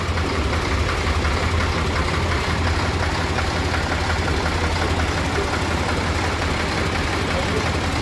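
An HMT 3511 tractor engine idling, a steady, loud low-pitched diesel rumble with an even knocking pulse running continuously and close by.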